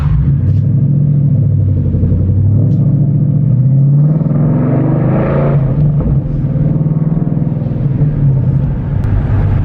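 A Mustang GT 5.0 V8 with resonators deleted rumbles steadily with a deep exhaust note, rising briefly in a rev before settling back to a low, continuous drone.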